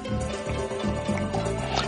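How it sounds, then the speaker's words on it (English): Wine poured from a freshly uncorked bottle into a glass, a short steady liquid trickle with faint dripping, close and clear with no talk. "Pour a small amount of wine for yourself."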